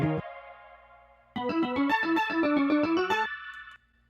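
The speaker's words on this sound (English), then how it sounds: "You hear how now that outro lead is echoing it" A distorted synth lead from a Logic Pro song outro plays a quick run an octave up, its bright harmonic-rich notes stepping along with a chorus-like echo. A held tone comes before the run and a shorter one after it, with no voice.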